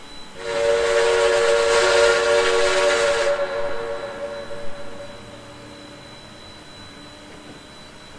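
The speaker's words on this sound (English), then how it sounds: "same chuff sounds across the board, but whistle sound changes" A K&L N&W 4-8-0 Mollie steam locomotive in Trainz 2019 sounds a loud, sustained whistle for about three seconds, then a steady rumbling chuff continues alone under it and after it fades.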